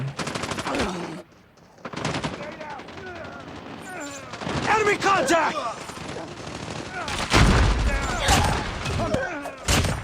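Rapid machine-gun bursts and gunfire crackle through a Call of Duty Mobile 10v10 match on the Shipment map, with dense repeated volleys, a short lull, then heavier loud shooting and thuds near the end.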